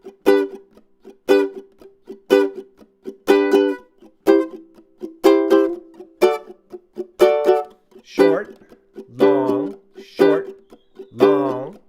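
Ukulele tuned with a high G playing a reggae strum, rhythmic clipped chords in patterns of short and long squeezes, each chord choked off sharply in a steady repeating groove, played alone and close.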